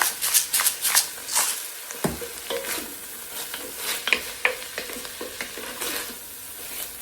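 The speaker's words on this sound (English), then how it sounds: "Give that a good stir, get everything mixed up." A spoon stirs beef, tomatoes, spices and black pepper in a pot for ravioli soup, making a series of close, quick scraping and sloshing strokes with a faint sizzle underneath.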